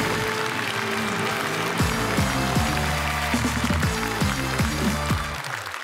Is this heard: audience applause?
yes